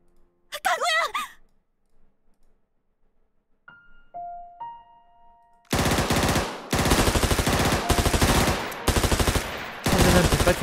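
Rapid bursts of machine gun fire crackle loudly and continuously in a visual novel video game, arriving abruptly after a quiet stretch with a soft sigh and faint chimes.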